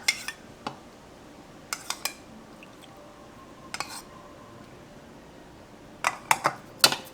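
Metal utensils clink sparsely against a bowl while tofu salad with chili, lime juice and soy sauce is stirred together, scattered near taps in small clusters with quiet pauses between.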